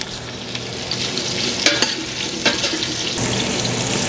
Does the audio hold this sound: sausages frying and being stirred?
yes